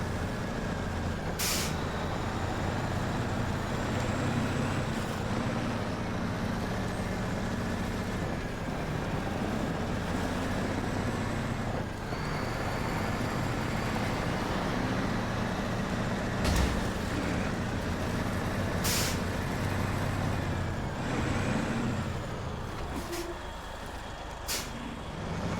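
A heavy truck engine drives steadily in SnowRunner, a low continuous rumble with no all-wheel drive, punctuated by several sharp air-brake hisses and brief mechanical clanks throughout.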